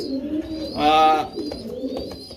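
A single throaty pigeon coo rises clearly above a low ambient murmur, with faint bird chirps in the background.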